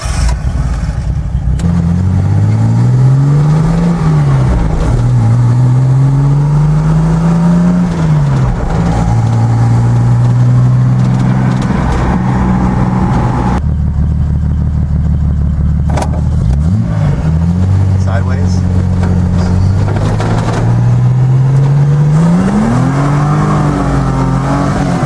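A Datsun 240Z engine drives and accelerates continuously, revs rising and falling through repeated gear changes, loud and close throughout with no talking.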